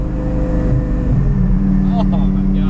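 A twin-turbo Lamborghini Gallardo pulls hard, its engine note climbing steadily in pitch as it accelerates, loud and close from inside the car, with voices partly over the drone.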